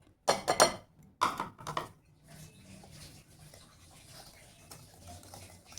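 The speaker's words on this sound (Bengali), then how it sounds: "গুঁড়ো চিনি আর টক দইটা আমি খুব ভালো করে মিশিয়ে নিচ্ছি" Powdered sugar and sour yogurt being stirred together in a bowl for a Christmas cake, a few loud clinks and scrapes at the start, then a softer, steady mixing sound that continues quietly.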